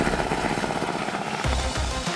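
A CH-148 Cyclone military helicopter produces a steady, loud broadband rotor and turbine roar that stays constant throughout.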